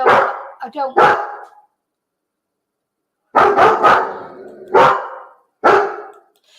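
Pet dog barking indoors at home, a few close, loud barks and yips in short bursts separated by silence, with a person's voice heard between them.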